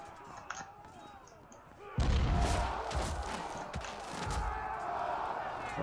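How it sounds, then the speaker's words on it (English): A heavy cannon shot in Field of Glory Medieval, a distant thump followed by a rolling boom and crackle of impacts across a battlefield, with a voice talking in the background. "Can't believe I'm wasting a cannon shot."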